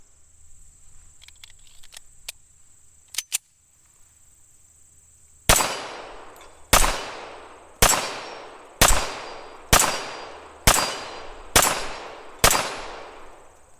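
Eight sharp pistol shots from a Tisas 1911A1 firing Winchester hardball ring out at an even pace, each loud crack trailing a short ringing decay, after a few quiet handling clicks and metallic taps.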